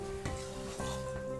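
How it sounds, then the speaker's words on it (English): Water sizzling in a hot frying pan, a steady close-up hiss with a couple of brief louder crackling bursts, while corn and black bean cakes are being cooked. "when the water starts to sizzle a little bit"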